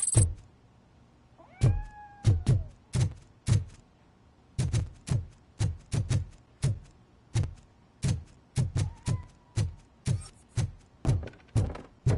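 A cat gives a couple of brief meows early on and again later, set among a long run of sharp, evenly repeated knocks and thuds.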